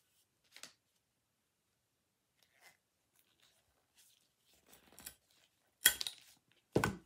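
Scissors snip through craft material for a small DIY fall wagon, giving a few quiet isolated cuts and then two sharper, louder snips near the end in an otherwise silent room.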